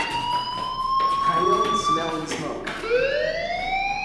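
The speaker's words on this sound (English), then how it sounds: "do you hear that fire alarm? That means you should be outside." A loud, piercing electronic fire alarm in the video game Life Is Strange wails in repeated rising tones, sweeping upward then breaking and starting again, with chatter beneath it.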